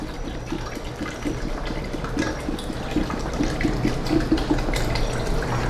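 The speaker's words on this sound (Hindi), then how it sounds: "2 लीटर मैंने पानी डाल लिया है।" Water pours steadily into a pot of meat bones for yakhni, giving a continuous splashing rush with a faint rhythmic gurgle and no speech.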